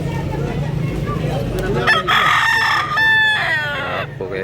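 Roosters crow loudly and close at a chicken market in Carbon, Cebu, with two or three drawn-out crows over low clucking and background bustle.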